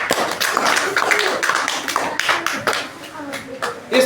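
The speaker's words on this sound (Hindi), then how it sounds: "वेरी गुड, ताली बजाओ।" Children clapping hands together in a classroom maths lesson, a close run of sharp, uneven claps in quick bursts, with voices talking over them.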